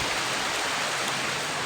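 Heavy rain pours outside in a steady, dense wash of noise with no breaks, moderately loud and unaccompanied by speech.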